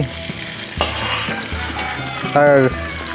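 Orbeez water-gel balls dropped into hot cooking oil, crackling and sizzling up close alongside scraping stirs and a few knocks of a utensil against the pan, with a brief tonal squeal near the end.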